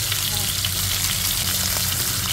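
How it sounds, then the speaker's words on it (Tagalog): Dried fish, daing and tuyo, sizzling steadily in hot oil in a pan, a loud, even crackle and hiss that runs without pause. "magpiprito na rin po tayo ng daing at tuyo"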